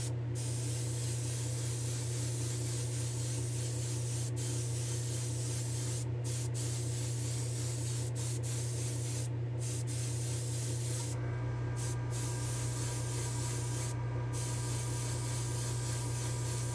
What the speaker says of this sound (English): I think we're okay to go spray